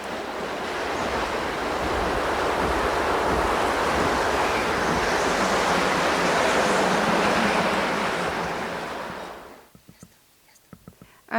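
Ocean waves wash steadily and loudly onto the Mediterranean shore for several seconds, then the surf fades away and a few brief faint sounds follow near the end.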